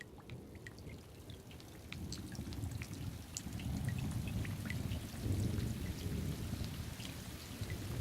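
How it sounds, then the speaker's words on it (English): Rain falls steadily onto a puddle in a storm, a dense patter of drops and splashes building slightly louder partway through, with soft low rumbling underneath. "This happens every time a raindrop hits a puddle."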